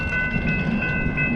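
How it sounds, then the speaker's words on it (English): A River Line light-rail train near Roebling station in New Jersey rumbles past with steady wheel and rail noise and a sustained tonal whine, loud and continuous throughout the brief moment. "See another train"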